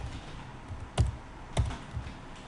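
A couple of distinct taps on a computer keyboard while code is typed, close and moderately loud, set against a steady background hiss, with no voice.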